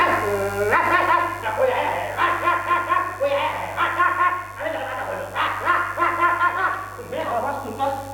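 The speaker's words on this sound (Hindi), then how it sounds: "वो कुत्ता लगातार भौंके जा रहा।" A dog barks continuously at a house door after the doorbell rings, a rapid run of close, loud, yappy barks in bursts with brief pauses, mixed with chuckling.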